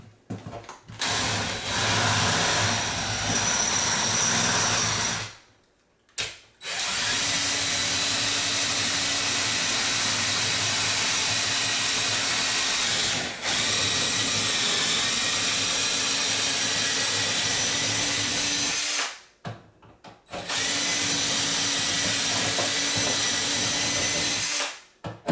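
A power drill runs a hole saw on an extended pilot bit through a wall during a shop electrical install, a loud, steady grinding whine sustained for long stretches with two brief stops before restarting.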